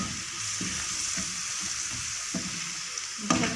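Spices frying in oil in a pan for baingan bharta give a steady close sizzle, with soft scraping stirs now and then and a louder clack near the end.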